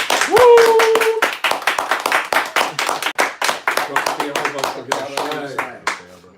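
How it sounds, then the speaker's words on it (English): A small group claps together at a live sit-down gathering, the individual hand claps distinct and close, opening with a brief spoken exclamation and then fading into scattered, slowing claps. "Let's give him a clap, man."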